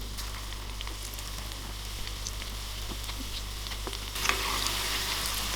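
Egg 65 pieces drop one by one into hot oil and fry with a steady crackling sizzle, growing louder as more pieces go in near the end, with no talking.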